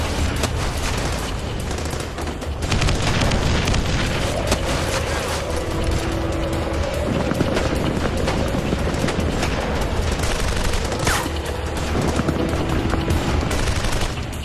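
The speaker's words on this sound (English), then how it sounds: "The Dushka's heavy fire is finally silenced" A DShK heavy machine gun fires in battle in a completely open area with no cover, producing dense, loud bursts of rapid gunfire that continue almost without pause amid a roar of background noise, with no talking.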